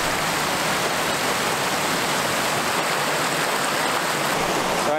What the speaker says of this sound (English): But I came across this waterfall and it's pretty cool.